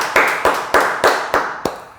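Six sharp, evenly spaced claps ring out in a church during an early-morning prayer meeting, close and crisp with brief decay, sounding like a single pair of hands or a small group rather than broad congregational applause.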